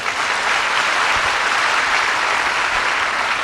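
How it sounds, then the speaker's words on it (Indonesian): An audience at a talk in Indonesia breaks into dense, even applause, a loud, steady wash of clapping with no clear voices over it. "Tepuk tangan untuk profesional mong."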